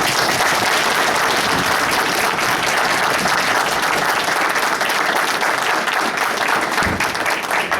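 An audience gives sustained, loud applause throughout for a World War II veteran named Wes, standing up at a tribute evening, with dense clapping and no pause.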